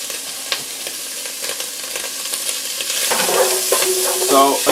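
Creole sausage browning in a pan, a crackling sizzle that grows louder and busier partway through, with scattered scraping stir noises.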